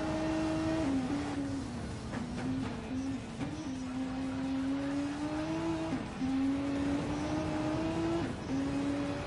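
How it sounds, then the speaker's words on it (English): Renault race car engine in a racing sim game at Watkins Glen, a steady harmonic drone with shifting pitch and brief gear-change dips, continuous and fairly loud throughout. "I like the way this Renault sounds"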